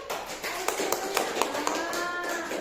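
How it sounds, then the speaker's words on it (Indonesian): Children in a classroom clap their hands in a short run of rhythmic claps, moderately faint, with a sustained tone ringing over the background. "Tepuk tangan dulu."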